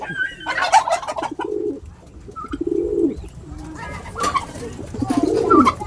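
A returning pet pigeon or dove coos close by in repeated low, throaty bursts, with a few sharper chirps and rustling between the calls.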